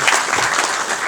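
An audience at the opening session of a Gujarati literary festival and writing workshop applauds: dense, loud clapping that fills the whole brief moment.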